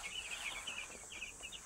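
Nine-day-old broiler chicks peeping in a rapid, high-pitched chorus of repeated chirps, close by and quiet, continuing steadily without pause.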